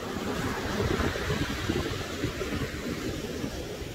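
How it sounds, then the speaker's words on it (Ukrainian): Ocean waves on a beach near Miami make a steady, dense roar of surf mixed with wind buffeting the microphone, continuous throughout with no voices. "шикарний океан."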